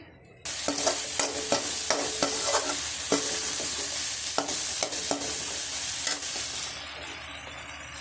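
Pav bhaji masala sizzling and frying in a hot pan, with repeated scraping stirs of a spoon against the metal, fading a little toward the end.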